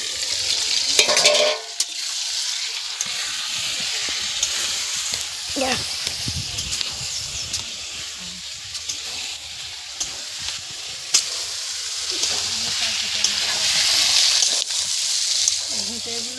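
Spicy chicken sizzles and fries in a pan over a wood fire, a steady loud hiss with occasional stirring scrapes and clanks, continuing throughout while voices talk faintly in the background.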